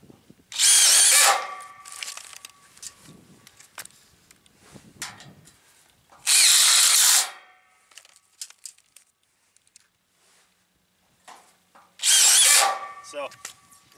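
A cordless drill with its clutch set low drives screws into a metal truss in three loud whirring bursts. Between them come quieter clicks, handling noises and faint shop sounds.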